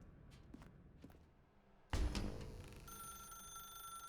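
A telephone in The Stanley Parable video game starts ringing with a sharp, sustained electronic trill after a loud thump, following a few soft footsteps in a quiet room.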